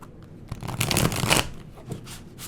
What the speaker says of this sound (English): Okay, I'm going to cut the deck.